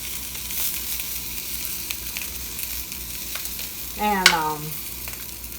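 Homemade meatballs sizzle steadily in a frying pan, a constant close crackle with brief stirring scrapes and a short tonal squeak partway through, and a voice speaks a word at the very end.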